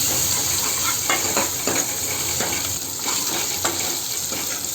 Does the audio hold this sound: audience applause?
no